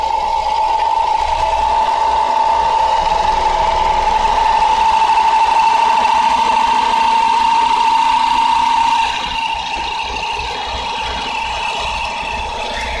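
An engine idles steadily with a loud, rapid ticking from the valve lifters over a mid-pitched hum, easing slightly near the end.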